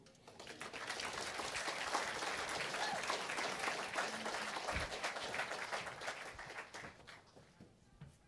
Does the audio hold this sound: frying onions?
no